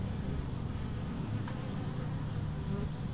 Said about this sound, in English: these look like nice little golden Italian bees